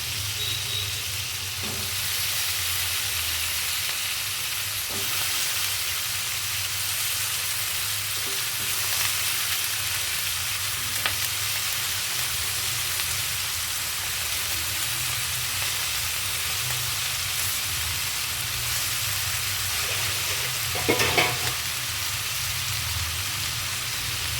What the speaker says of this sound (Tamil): கத்திரிக்காவும் சேர்த்து கொஞ்சம் நல்லா வதக்கி விட்டுக்கலாம்